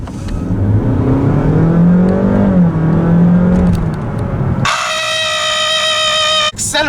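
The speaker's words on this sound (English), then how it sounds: "I just pushed the accelerator and the engine screams" A 2022 Honda HR-V hybrid engine revs hard and rises in pitch under acceleration, heard loud from inside the cabin, then gives way to a strong, steady high whine.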